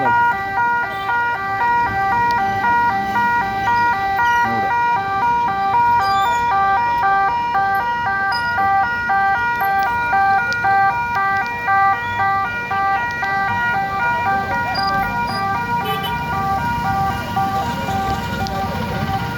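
An ambulance siren at the Thalappadi area on the Karnataka border after an accident, a loud continuous electronic wail cycling in a fast regular pattern over road traffic rumble, close and sustained throughout.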